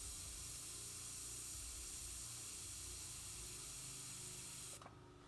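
Airbrush spraying paint in a home art studio during a late-night Harley-Davidson painting session: a faint, steady airy hiss runs almost unbroken for about five seconds, then cuts off.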